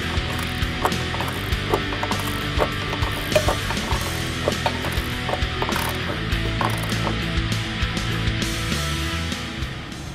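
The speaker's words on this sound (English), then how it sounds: "Now we can torque the upper coilover bolt to 75 foot-pounds." A torque wrench ratchets as it tightens the upper coilover bolt to 75 foot-pounds on a 2015-2020 Mustang during a Ridetech coilover install, a loud close run of rapid metallic clicks with no talking.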